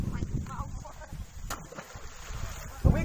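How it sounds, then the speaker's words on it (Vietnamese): Strong wind at a riverside buffets the microphone, making rough, uneven rumbling gusts that rise and fall throughout, with a sharp thump near the end and faint background sounds mixed in. "Gió rất là mạnh."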